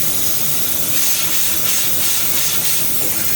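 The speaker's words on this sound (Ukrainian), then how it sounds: "Подушка на передній осі прийшла в негодність. Отут знизу шипить." Air hissing steadily from a burst front-axle air suspension bag on a truck, a loud continuous broadband hiss close by with no break across the whole stretch.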